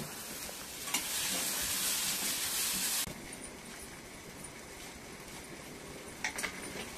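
Shelled peas drop into a pan of fried onion and tomato for a pea and fenugreek bhaji, setting off a loud burst of sizzling that eases into a steadier frying hiss, with occasional stirring clatter.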